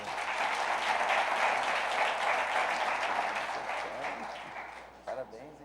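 A church congregation applauds during a Sunday celebration service, a steady dense wash of clapping from many hands that holds for several seconds, then thins and fades toward the end.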